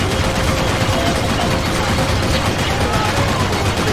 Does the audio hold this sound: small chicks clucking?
no